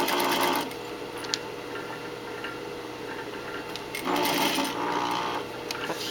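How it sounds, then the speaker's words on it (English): A sewing machine stitches steadily along a seam, its rapid mechanical whir holding at close range with brief pauses and restarts and no talk over it. "Sewing."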